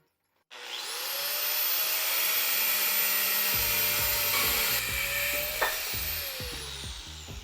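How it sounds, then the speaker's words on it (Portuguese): An angle grinder cuts a steel bar in a workshop while forging a chef's knife, a loud, steady high-pitched whine that holds for several seconds and then dips in pitch as it bites into the metal. "A primeira etapa agora é fazer o corte no metal e para isso a gente vai usar uma esmerilhadeira."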